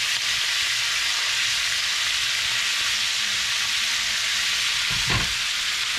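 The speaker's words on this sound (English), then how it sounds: "So now I'm gonna dump my shrimp in here. I'm gonna dump my onion in here." Shrimp and onion hit a hot pan for Southern shrimp and grits, giving a loud, continuous close sizzle with one brief thump of stirring partway through.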